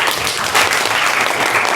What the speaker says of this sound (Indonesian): Beri tepuk tangan untuk Sinta